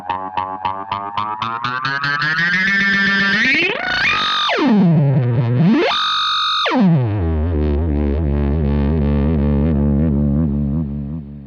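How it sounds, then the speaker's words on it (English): A simple analog delay pedal repeats a note endlessly while its delay time is turned, so the repeats sweep steeply up and down in pitch like tape being sped up and slowed, loud and continuous. "you play a note that will repeat infinitely. Then you can adjust the delay time, and it's like speeding up and slowing down the tape"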